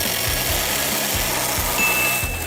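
A small cheap chainsaw cutting into a tree, its motor buzzing loud and continuous at close range with a slight rhythmic pulsing as the chain bites through the wood.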